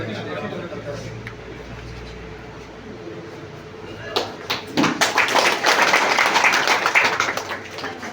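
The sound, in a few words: crowd applauding loudly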